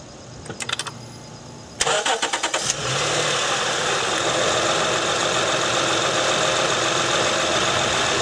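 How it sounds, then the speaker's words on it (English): Acura TL engine cranking with a few quick turns before catching, then settling into a steady, loud idle that hums on alone close to the car. "So let's start the vehicle."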